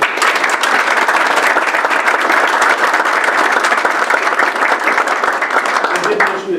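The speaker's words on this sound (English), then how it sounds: "if I could ask you to give them a round of applause" An audience at a military retirement ceremony applauds steadily, dense continuous clapping filling the room loudly from start to finish.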